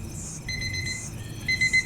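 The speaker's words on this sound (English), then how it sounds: "There goes our timer" A kitchen-style timer alarm goes off with a steady high-pitched electronic beeping that repeats in short pulses and grows louder toward the end, sounding alone in a quiet room.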